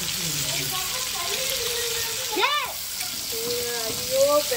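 Fish cooking with raw mango in a clay pot, a continuous moderate sizzle and bubbling, with a voice speaking over it in places.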